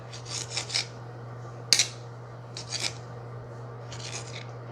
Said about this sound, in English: So I cut it across to pop out any seeds